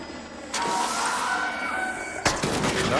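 Gunfire from the Arc Raiders video game, with sharp bursts of shots that start abruptly, run through a loud sustained stretch and then hit again with a fresh burst near the end.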